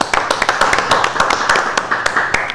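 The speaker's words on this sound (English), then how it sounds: "Thank you, Mike, for the applause out there" A small group's applause, quick close claps and taps in an uneven flurry lasting a few seconds, fairly loud with no other sound.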